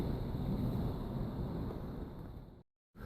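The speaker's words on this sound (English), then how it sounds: "I don't know if you can hear this crazy windstorm outside." Steady roaring wind fills the air, a broad rushing noise that holds for a few seconds before cutting out abruptly near the end.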